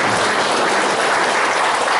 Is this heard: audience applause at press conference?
yes